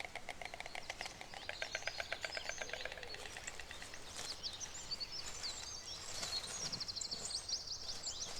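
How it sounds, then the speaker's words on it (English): White storks clatter their bills outdoors in rural Poland in rapid wooden rattling bursts, joined by scattered chirps of smaller birds, all at moderate distance. "The bird's distinctive clattering is both a greeting and serves to strengthen the bond between"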